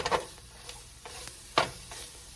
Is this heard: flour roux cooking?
yes